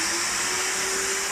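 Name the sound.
carpet cleaner motor running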